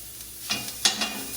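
Ground sausage sizzles and crackles in a frying pan over medium-low heat, with a steady close hiss broken by a few brief louder bursts as it is stirred.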